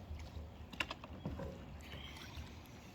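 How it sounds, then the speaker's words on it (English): Kayak paddling on Sequim Bay, with faint soft splashes and paddle dips over quiet outdoor water ambience. "That's some good kayak paddling you got going"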